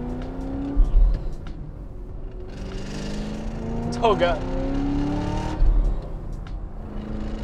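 Fifth-generation Chevrolet Camaro engine revving as it is shifted through gears, with rising pitch sweeps and a brief climb and drop, heard close under someone talking.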